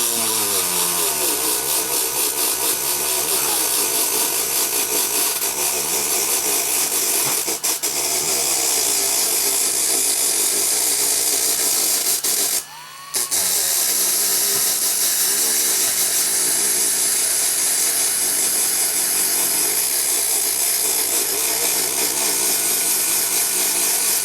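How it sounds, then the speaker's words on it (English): A wire wheel on a power tool grinds steadily against thick paint on a model airplane wing, a loud continuous abrasive rasp that cuts out for a moment partway through, then resumes. "I'll probably go over it with the wire wheel"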